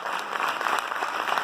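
A crowd applauds continuously as farmer guests are welcomed onto the stage at a Nagpur event, a steady wash of clapping at moderate level.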